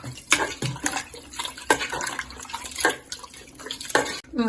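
Boiled water splashes and pours into a pot of tamarind curry in uneven bursts, with sharp clinks and gurgles, close and moderately loud.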